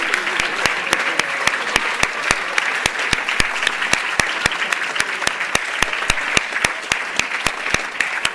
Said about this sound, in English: please rise and give a round of applause